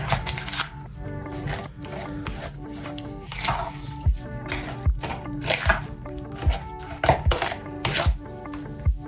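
A utensil scrapes and knocks rhythmically against a bowl while thick lemon cookie dough with lemon juice and turmeric is stirred, close and steady.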